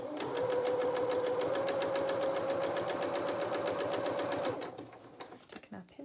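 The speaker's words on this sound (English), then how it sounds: "Let's just sew all the way up." Sewing machine stitching fabric for a toy otter body, a fast steady rhythmic whirring clatter at close range for about four and a half seconds, then stopping, with faint handling noises and a voice afterward.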